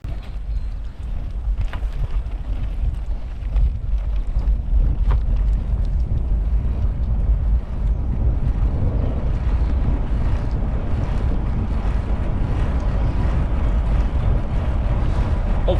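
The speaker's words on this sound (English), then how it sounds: "Wind's going right through my clothing." Wind roars across the microphone while cycling on an open road on a chilly 51-degree morning, a loud, continuous low buffeting rush with no voices.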